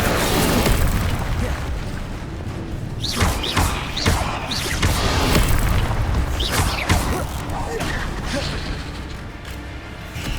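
Incendio fire spell cast in Hogwarts Legacy, heavy booming thuds and bursts repeating in a dense, loud stream of combat impacts with whooshing flares throughout.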